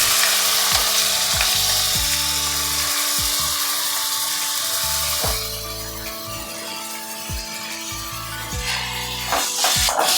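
Vegetables with green chilli paste, turmeric, beet and carrot being stirred in a hot wok-like pan, giving a dense continuous sizzle broken by a series of sharp knocks and scrapes of the spatula, close and loud.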